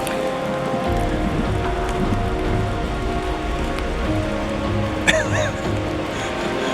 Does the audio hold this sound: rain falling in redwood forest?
yes